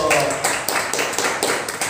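Classroom of high school students clapping together in a brief, fairly close burst of applause with a few rhythmic hand claps, and faint voices in the background.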